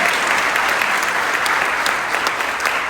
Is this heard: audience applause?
yes